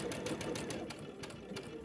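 A home sewing machine stitching at a slow, steady pace while piecing a quilt block, its motor humming and needle tapping in even repeated pulses, moderately close and alone.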